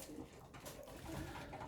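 Racing pigeons coo steadily in a loft during feeding time before the first race, soft overlapping calls running continuously at moderate level.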